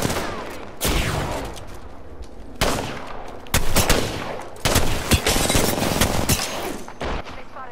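Gunfire in Apex Legends aimed at the player: repeated loud bursts of rapid shots and single cracks, some close, with brief gaps between volleys across the whole stretch.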